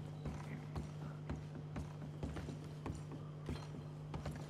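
A horse's hooves clip-clop at a steady walking pace in the Red Dead Redemption 2 video game, close and regular, with a low steady hum beneath and faint creaks.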